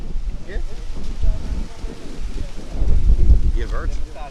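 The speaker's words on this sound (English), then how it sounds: "it's extremely windy." Strong gusts buffet the microphone at a women's football semi-final match, a continuous low rumbling roar that swells louder near the end, with faint voices underneath.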